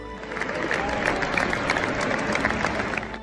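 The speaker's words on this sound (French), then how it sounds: "tout le stade s'est joint à une vague d'applaudissements pour l'honorer" Steady applause from a large football stadium crowd, dense and continuous throughout, with a faint murmur of voices underneath.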